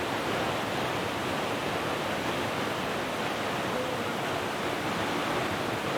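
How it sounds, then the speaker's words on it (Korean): A dynamic waterfall in Chilseong Valley on Jirisan, with water pouring down in full volume, gives a steady, dense roar that fills the whole clip close by, without any talk. "칠성계곡에서는 제일 다이내믹한 폭포고 수량이 많으면 우리가 서 있는 이쪽으로 물이 쏟아져요."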